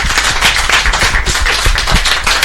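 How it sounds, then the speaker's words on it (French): Audience applause in a studio broadcast, dense close clapping filling the whole stretch at a loud, even level with no talk over it. "on peut applaudir"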